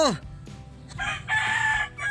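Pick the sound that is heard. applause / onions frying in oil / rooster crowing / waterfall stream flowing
rooster crowing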